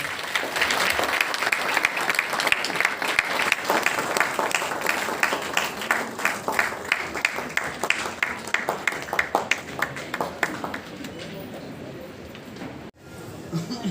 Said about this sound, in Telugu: can you have a good round of applause